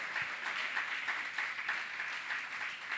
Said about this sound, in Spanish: Dele una ofrenda de palmas.